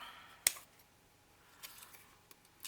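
Scissors snip once sharply through glue buildup on the edge of a hardcover journal, followed by a few fainter snips and soft handling rustles in an otherwise quiet room.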